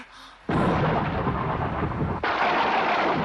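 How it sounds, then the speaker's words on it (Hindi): Cartoon thunder booms loudly during a rainstorm, a sudden heavy rumble that rolls on with rain hiss and then a second sharp crack that continues into a sustained roar. "बादल भी गरज रहे हैं।"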